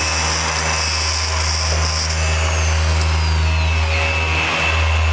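A rotary buffer spins at about 2500 RPM while a spur is run across its pad to clean it, during wet-sanding and buffing work on a 1965 Mustang Fastback. It gives a steady, loud machine hum and whine with a faint scraping texture throughout.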